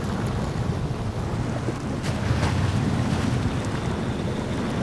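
A heavy truck ploughs through water in the off-road driving game SnowRunner, a continuous loud rushing and sloshing wash with low engine rumble and no speech.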